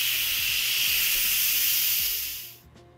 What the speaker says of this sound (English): we gotta release some steam